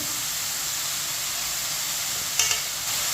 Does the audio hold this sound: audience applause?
no